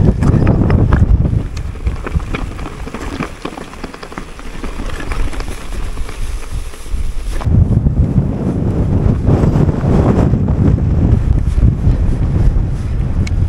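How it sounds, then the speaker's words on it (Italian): Strong mountain wind at Alpe Gigiai above Lake Como buffets the microphone with loud, continuous roaring gusts, briefly easing before surging again with no voices heard. "Mamma mia, quanto è forte il vento."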